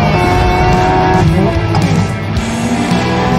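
A Hyundai N RN24 race car drifts with a loud, steady engine roar and a constant tire hiss, the pitch shifting slightly as the car slides, close and continuous throughout.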